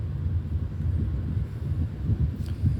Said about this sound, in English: you could hear it was a little bit windy that day